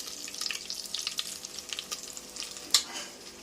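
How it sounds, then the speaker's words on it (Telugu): Ginger and garlic frying in a pan, a soft steady sizzle with faint crackles and light stirring scrapes throughout, ending in one sharper clink. "ఇప్పుడు అల్లం తెల్లవాయి కూడా మనకి బాగా ఫ్రై అయిపోయింది చూడండి ఒకసారి"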